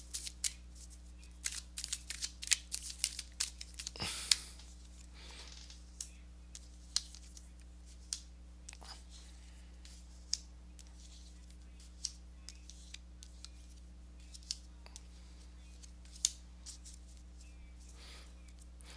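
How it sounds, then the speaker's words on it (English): Tarot cards being shuffled at a reading table, a quiet string of crisp riffling ticks and papery snaps that comes in scattered bursts over a steady low hum, with one louder flurry near the start. "let me go ahead and give these cards a shuffle"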